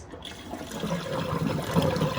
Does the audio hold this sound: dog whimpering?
no